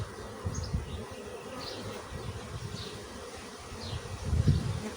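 Honeybees swarm and buzz around an opened hive, making a dense, continuous drone close by, with soft rustling and a few louder low bumps of handling near the end.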